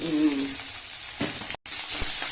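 Cumin seeds and a dried red chili frying in hot oil, a steady close sizzle throughout with a brief dropout near the end.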